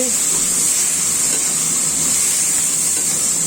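Green chilies, tomato and five-spice hiss and sizzle in hot oil, a loud close steady frying crackle throughout.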